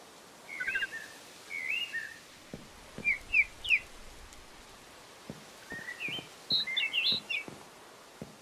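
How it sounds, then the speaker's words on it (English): Birds in a Gray Mountains video-game base chirp and whistle in short bursts of bright calls, moderately loud against a quiet background with faint clicks. "Oh, the birds are pretty loud, aren't they?"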